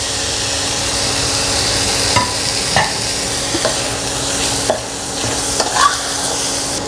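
Chopped tomatoes sizzle steadily in a hot pan with chilli powder, with occasional scraping stirs breaking through the constant close frying hiss.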